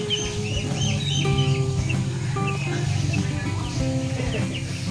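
Several chickens cluck and murmur continuously nearby, with occasional higher chirps over a steady farmyard background.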